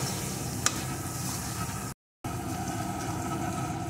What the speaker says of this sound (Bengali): এখন পেঁয়াজটা আর একটু ভেজে নেব।